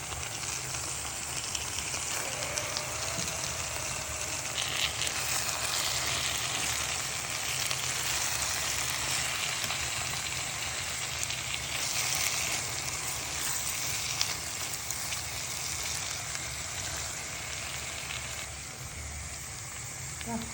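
Vegetable stew with tomato added sizzles and fries steadily in a pan, a continuous dense crackle throughout with no pauses, fairly close and even in loudness.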